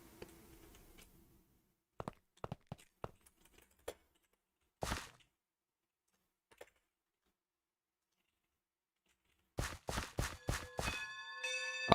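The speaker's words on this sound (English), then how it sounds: "you can hear the bell before you can hear the chuff" Locomotive bell in the Minecraft railway mod Immersive Railroading, a series of sharp metallic clangs ringing out in quick succession near the end, after scattered clicks and a long quiet stretch.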